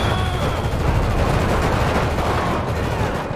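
Dense rifle fire during a gang war in GTA V, a continuous loud roar of overlapping rapid shots with no pauses, close and heavy throughout.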